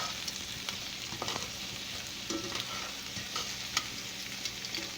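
Shrimp spaghetti cooks and sizzles steadily in a pan while tongs stir and scrape through the pasta with scattered clicks and knocks, close and fairly quiet, with no voices.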